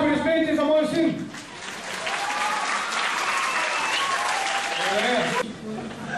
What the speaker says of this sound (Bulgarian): Моля, аплодисменти за моя син.